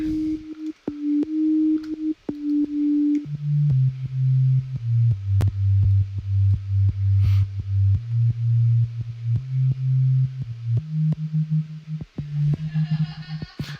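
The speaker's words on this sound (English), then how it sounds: "So like this is just a basic sine wave." A plain, pure sine-wave synth tone plays a simple MIDI melody of sustained notes, starting higher then dropping lower, steady and clean with no voices.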